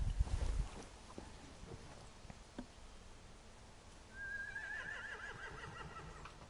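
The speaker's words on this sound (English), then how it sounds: "They have horses." A horse whinnies in The Walking Dead game, a single rising, shaking neigh that starts partway through over a quiet background of wind and faint shuffling.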